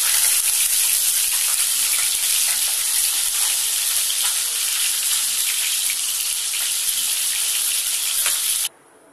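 Bele fish frying in hot oil, a dense, steady hiss and crackle that holds loud and even for about nine seconds, then cuts off abruptly near the end.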